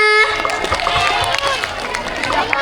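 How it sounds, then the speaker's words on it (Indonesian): A school crowd at an Indonesian primary school National Education Day event applauds for class 3, with dense, sustained clapping mixed with cheering and children's babble. An amplified voice speaks at the start. "Tepuk tangan untuk kelas 3."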